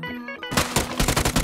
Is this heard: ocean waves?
no